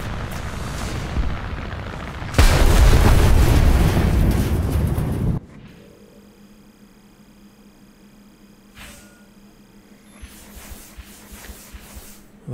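A Ki-10 biplane slams into the ground in War Thunder arcade air combat, a loud broadband crash and roar that cuts off abruptly, leaving a quieter engine and ambient hum afterward.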